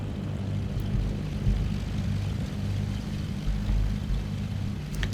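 A steady, low engine drone with a propeller-like hum from a Cessna 414 taxiing on a general aviation apron in Microsoft Flight Simulator 2024, continuous and even throughout, with no voices over it.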